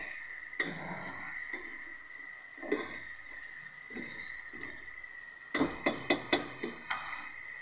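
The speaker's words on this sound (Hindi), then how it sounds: "ये देखें मसाले को मैं अच्छे तरीके से भून रही हूँ" Masala being fried for a chicken and potato curry, a steady sizzle in the pan broken by repeated spoon scrapes and knocks, ending in a quick run of sharp taps, close up with no talking.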